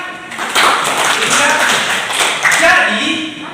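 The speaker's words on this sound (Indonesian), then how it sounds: "Tepuk tangan." A classroom of students clapping their hands together in a brief, uneven burst of taps, close and fairly loud, with voices talking over the clapping.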